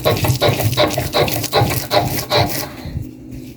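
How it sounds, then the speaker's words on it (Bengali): Fried bottle gourd seeds being ground with salt on a flat grinding stone, making loud, close, rhythmic rasping strokes in a steady back-and-forth pattern that fade out at the end. "এখন আমি লবণ দিয়ে বেটে নিচ্ছি"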